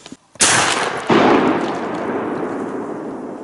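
A single sharp gunshot during a night spring hunt on water cracks out loud and close, followed by a long rolling echo that slowly fades.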